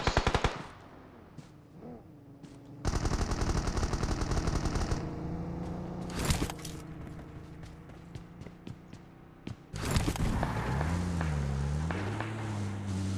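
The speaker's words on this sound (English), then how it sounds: "You can hear the actual shooting going on." Rapid automatic gunfire in a Clatter of Clans esports match, loud bursts of machine-gun fire alternating with quieter gaps and single shots, with low humming game sounds underneath.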